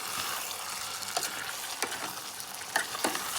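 Egg and masala stirred in a hot frying pan with a spoon, a steady broadband sizzle with scattered spoon scrapes and taps against the pan, close and continuous, no voices.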